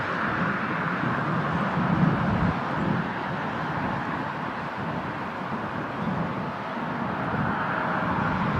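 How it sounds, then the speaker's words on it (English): A 19-year-old Boeing 777-300 approaching LAX from Charles de Gaulle on a stormy day produces a steady, broad rumbling engine roar that stays heavy and constant throughout, distant rather than close, with no voices over it. "you can hear those massive engines roaring about"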